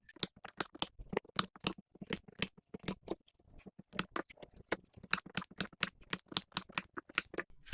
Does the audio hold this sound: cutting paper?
yes